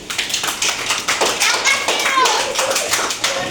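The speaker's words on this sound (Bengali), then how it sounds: "ওকে একটা জোরে তালি দাও" A first-grade class in a Bengali oral exam claps loudly together, a quick run of sharp, close hand claps with children's voices mixed in.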